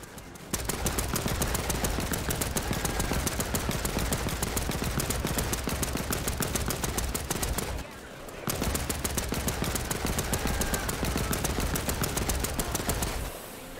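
Sustained rapid machine gun fire in the war video game Land of War, a loud dense stream of shots running nearly nonstop with one brief pause midway.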